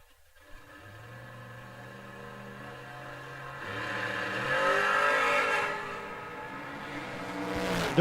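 A Pontiac GXP and a Chevrolet Malibu race car rev hard at a drag strip, engines droning and climbing in pitch, swelling louder as they accelerate past at moderate distance.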